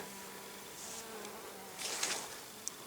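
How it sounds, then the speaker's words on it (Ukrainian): Faint buzzing of a bee moving close by on yellow sweet clover flowers at nine in the evening, with short bursts of louder wing hum over a quiet outdoor background. "Жовтий буркун, на якому навіть зараз бджола лазить."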